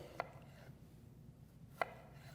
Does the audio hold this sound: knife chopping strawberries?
yes